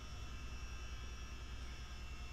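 A CH-47D Chinook helicopter taxis in a flight simulator game, giving a steady, even engine and rotor drone with a constant high whine, faint and unchanging throughout.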